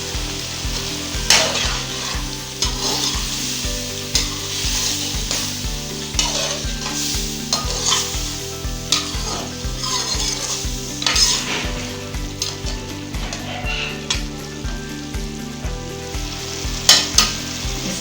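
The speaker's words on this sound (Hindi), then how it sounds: "इसके अच्छे से भुनाई करेंगे।" Chicken karahi sizzles and fries in a pan with desi ghee and red chilli while being stirred, bright crackling sizzle under frequent metal scrapes and clinks of a utensil against the pan, close and steady, no voices.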